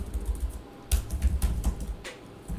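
Rapid keystrokes on a computer keyboard, short clustered taps in an uneven rhythm as a command is entered, close and clear with no talking.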